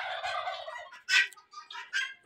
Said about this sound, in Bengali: এগুলো বড়গুলো কয় টার্কি আর ছোটগুলো কয় তিতির পাখি।